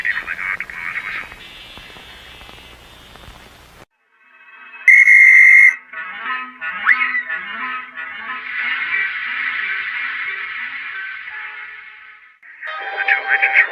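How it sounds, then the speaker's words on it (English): A train guard's whistle sounds at the start of a race, one loud, shrill blast under a second long, set among other sounds and voices. "waiting for the guard to blow his whistle"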